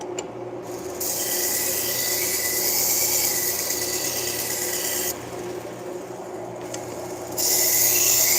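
A knife blade rasped steadily across a sharpening stone or abrasive in a sharpening shop, a continuous gritty scraping that shifts in intensity a few times, close and without talk.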